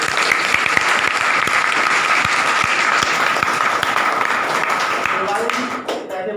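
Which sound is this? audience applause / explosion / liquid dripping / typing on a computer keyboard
audience applause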